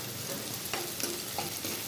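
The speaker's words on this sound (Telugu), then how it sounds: "ఇలా కలుపుతూ ఉండాలి, లేకపోతే అడగంటిపోతుంది." Onions fry in a pan for mutton keema curry, a steady close sizzle broken by soft scraping as they are stirred.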